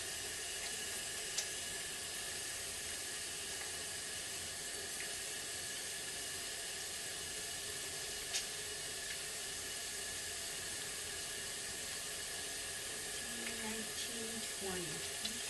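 Steady hiss of running tap water while hands are washed at a sink, constant and close throughout, with a few faint clicks and a brief murmur of voice near the end.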